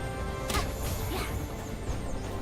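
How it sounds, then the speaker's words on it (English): A dozen meteorites rain down in the video game Palworld, a brief loud crash and whooshing impact over a dense, continuous rumble of game noise, with no voices. "that is the sound of a dozen meteorites coming after me."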